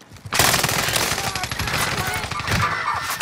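Rapid automatic gunfire in a shooter video game crackles loudly and almost continuously, with dense overlapping bursts running from start to finish.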